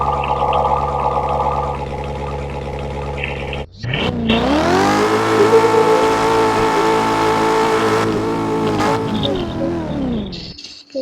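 A car engine revving hard at full speed, a loud sustained mid-pitched roar that rises and holds for several seconds after a brief earlier engine note, then cuts off abruptly.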